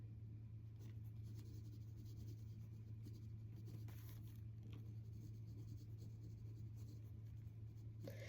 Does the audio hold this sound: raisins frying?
no